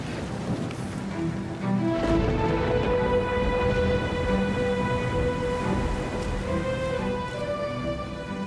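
Steady heavy rain pours down on a mountain with a low rumble of thunder beneath it, a continuous stormy wash with no voices.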